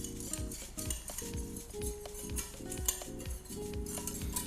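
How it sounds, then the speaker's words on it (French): A utensil scrapes and clinks steadily in a pan as flour is stirred into melted butter for a white roux, with a rapid, repetitive stirring rhythm up close. "maintenant je rajoute ma farine et je mélange de suite ma préparation"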